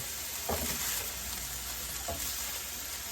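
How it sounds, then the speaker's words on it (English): A skillet of reheating food with broccoli sizzles and fries steadily, with two brief bursts of stirring scrapes as the mixture is mixed, close and continuous with no talking. "I'm just going to mix this together. We're just reheating."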